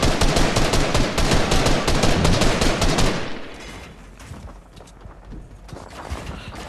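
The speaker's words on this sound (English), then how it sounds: "Trying to shoot him down" Rapid video game gunfire rattles in a loud, dense automatic burst for about three seconds, then cuts out, leaving only a faint background hum.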